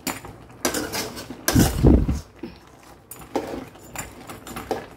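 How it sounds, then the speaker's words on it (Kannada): Crab sizzling and frying with coconut in a pan, with bursts of close clattering and scraping as the mixture is stirred, loud and irregular. "ತೆಂಗಿನಕಾಯಿ ಎಲ್ಲ ಹಾಕಿ ಇದರಲ್ಲೇ ಸ್ವಲ್ಪ ಫ್ರೈ ಮಾಡಬೇಕು ತೆಂಗಿನಕಾಯಿಯನ್ನು ಎಲ್ಲ ಸಹ"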